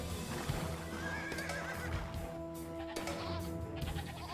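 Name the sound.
goats in a video game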